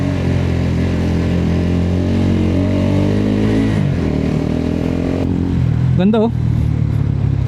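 Motorcycle engine labouring up a steep concrete road, a steady mid-pitched drone with a brief rise in revs, heard near and under a man's spoken remarks.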